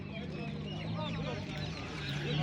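Roosters and chickens cluck at a busy poultry market in Sungurlu, a steady mix of birds close by under continuous voices of people talking.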